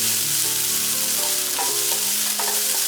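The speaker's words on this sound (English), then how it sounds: "I'll saute it for a couple of more minutes and then I'll transfer it in a bowl" Mushroom stuffing seasoned with black pepper sautés in a pan, filling the air with a dense, loud, unbroken sizzle and crackle, close and without speech.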